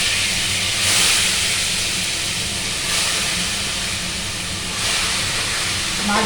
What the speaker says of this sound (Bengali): তেলটা পুরো গরম হয়ে কড়াই ধোয়া উঠছে। এবার মাছগুলোকে দিয়ে দেবো।